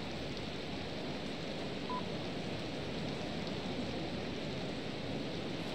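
Steady, dense rain hiss in the Yakuza 4 video game, an even wash of falling water that holds without a break throughout, with no voices over it.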